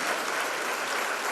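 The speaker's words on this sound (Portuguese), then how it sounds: "Sempre batemos palmas para Deus, porque Ele é maravilhoso." Congregation at a Portuguese-language Bible study service in Fort Lauderdale, Florida, clapping hands together in praise to God; a steady, dense wash of applause fills the room throughout, with no break.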